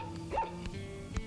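A cartoon dog fetching the newspaper for its master lets out a couple of short, bright barks and yips over a steady tonal backing, with a quick rising-and-falling vocal swoop near the start.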